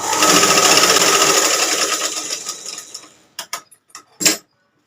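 Sewing machine stitching blouse cloth, a fast steady whirring run that slows and winds down, followed by a few separate mechanical clicks and knocks close up.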